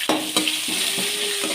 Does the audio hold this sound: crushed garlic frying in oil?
yes